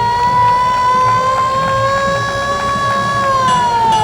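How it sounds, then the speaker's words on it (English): A restored 1925 American LaFrance fire truck sounds its siren during a parade, a steady wailing tone that holds, swells slightly, then starts to fall, loud and continuous over background street noise. "That's a 1925 American LaFrance fire truck. restored to its original condition."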